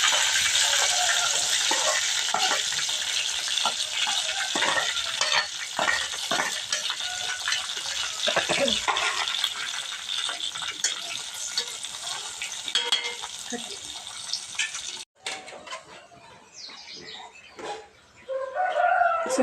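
Onion sizzles and fries in a pan with curry leaves, the crackling spatter steady and close with occasional stirring scrapes. A rooster crows in the background, and the frying fades to quieter sounds near the end.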